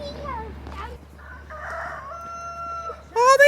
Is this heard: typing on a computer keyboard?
no